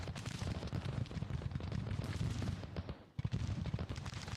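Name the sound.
battle gunfire from video game Grand Tactician: The Civil War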